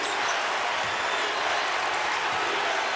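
A large, heavily pro-Duke college basketball crowd in an arena in Brooklyn at a Miami vs. Duke men's game, with a dense steady roar and cheering filling the space throughout and no clear talk.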